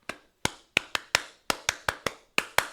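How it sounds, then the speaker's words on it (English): A single person claps by hand about eleven times at an uneven pace, each clap crisp and close with a short ringing decay, alone in a quiet room. "They teach you to clap like this"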